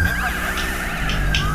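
A police car siren in the video game GTA V wails in steady rising and falling sweeps, loud and continuous over a constant bed of engine and game noise.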